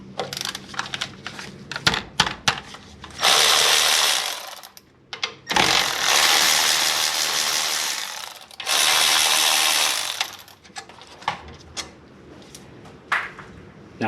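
A wrench works loose a seized, hot 14 mm brake hose fitting on a 2011 Ford F150, giving close, rapid ratcheting clicks in several long bursts separated by short pauses and scattered metallic taps.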